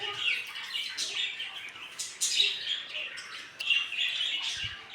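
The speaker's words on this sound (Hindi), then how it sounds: "हमारे तोते आजकल ना बदतमीज हो गए, बहुत शोर करते हैं।" Parrots squawk and chirp noisily in repeated harsh, shrill bursts, fairly close, with no talking.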